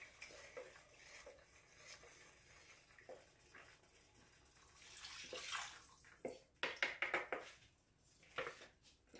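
Seasoned tofu being poured and scraped into a bowl for coconut curry tofu, with soft clinks and scrapes, then a brief burst of quick clattering knocks near the end, all close and fairly quiet with no talking.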